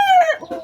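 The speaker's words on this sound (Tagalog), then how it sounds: "Chicken na manok." A chicken lets out a loud, close call. A falling cry is followed by quick clucking notes in under a second.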